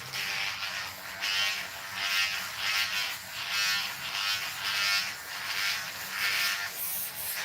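An electric shaver buzzes steadily near the microphone, its hum swelling and fading in a regular rhythm of about eight strokes as it moves across skin during a dry shave with no lubrication, with no talking.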